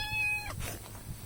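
A pet cat gives a single short meow at close range, fairly quiet, followed by soft low room noise.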